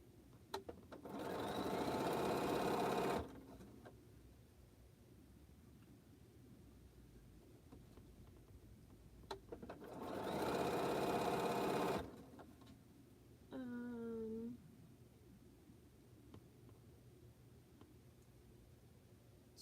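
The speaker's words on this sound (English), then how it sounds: "which Bernina are you sewing on? I'm sewing on the 770 Quilters Edition." A Bernina 770 Quilters Edition sewing machine stitches quilt blocks in two sustained bursts of steady motor hum, separated by quiet pauses with small clicks, followed by a short whirring sound near the end.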